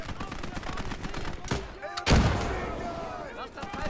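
Gunfire bursts and a rifle grenade blast in the World War II shooter Gates of Hell, with sharp shots around the midpoint and a louder boom just after two seconds that rolls into a decaying rumble, under a busy battle din.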